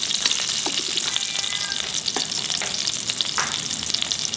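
Green chilies, three of them freshly cut, frying in a pan for a dry prawn chutney, giving a steady, close hiss of oil broken by occasional crackles and faint stirring clinks, with no talking.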